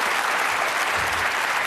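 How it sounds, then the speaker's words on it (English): A studio audience at a Bullseye game show applauds the contestants, a dense, loud, continuous wash of clapping that holds steady for the whole moment. "A warm round of applause for our contestants tonight."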